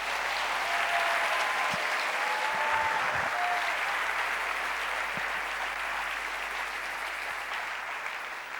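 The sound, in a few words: church congregation applauding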